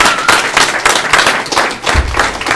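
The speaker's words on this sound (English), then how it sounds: "let's give these folks a fine round of applause." A room of people at a general membership meeting gives a round of applause, loud, dense clapping with thumps scattered through it and no talking.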